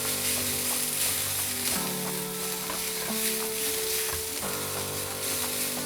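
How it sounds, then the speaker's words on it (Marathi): Onion fries in a pan over medium-low heat while a chicken curry is prepared, producing a continuous close sizzle and crackle, with faint scraping and clinks from stirring running underneath and no talking. "हा कांदा छान आपल्याला असा मऊ करून घ्यायचा आहे"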